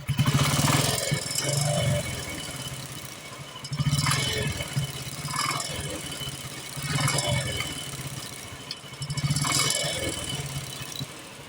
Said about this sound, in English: the self starter makes a lot of noise. There is a lot of engine noise